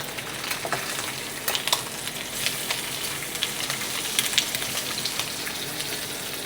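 Haggis fries in a pan with a constant crackling sizzle and scattered sharper pops and spits, close and moderately loud with no talking.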